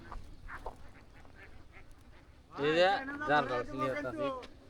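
Ducks quack and honk in a burst at a riverside duck farm in Bangladesh, close and fairly loud after a quieter start, with people talking nearby.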